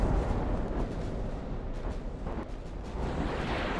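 Deep, continuous roaring rumble of naval shellfire and explosions in Ultimate Admiral: Dreadnoughts, a 1942 Battle of Savo Island scenario as shells strike the cruiser Minneapolis. The sound is loud and dense throughout, with no voices.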